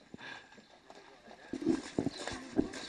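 Hooves of a Norman Cob clop steadily as the horse pulls a calèche on a farm outing, with several distinct hoof strikes standing out in the second half over outdoor background noise.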